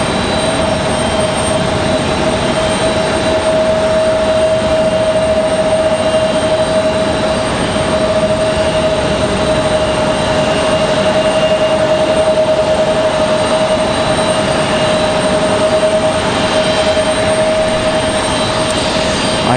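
A Boeing 737 MAX 8 jet bound for Reykjavik takes off from Raleigh Durham airport, its engines producing a loud, continuous roar with a steady whine running through it, heard from a distance without any talk.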